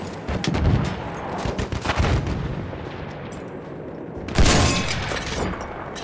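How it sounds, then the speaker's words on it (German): Enemy machine gun fire and explosions in a Battlefield 1 Conquest match, loud bursts of gunfire and booming impacts clustered near the start and again in a heavy blast toward the end, with battle noise rumbling throughout. "Feindliches Maschinengewehr!"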